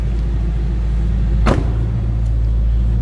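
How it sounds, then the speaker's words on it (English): A 2008 Ford Mustang Bullitt idling, its exhaust a low steady rumble close by, broken once by a brief sharp click or knock in the middle. "Nice deep throaty exhaust note."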